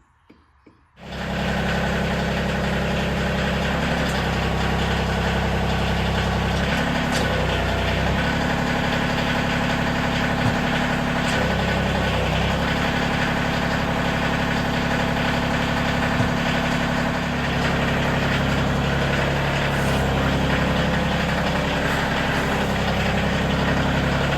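A Kioti CK2620 compact diesel tractor engine starts up and settles into a steady, loud idle, with a few slight dips in its rumble as it keeps running.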